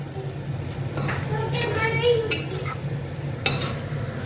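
Mutton stirred and fried in a pot at a family picnic, soft scraping and clinking of a spoon against metal in a few short bursts over a low sizzle, with faint background voices.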